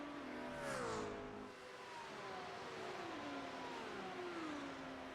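An Audi GT3 race car in a simulated racing game at Watkins Glen drones along with a rising and falling engine pitch as it shifts and accelerates, a steady revving whine heard alone.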